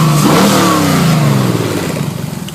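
A DeLorean fitted with an LS Corvette V8 and open headers revs hard and loud up close, the raw crackling roar climbing and then falling back toward a lumpy idle.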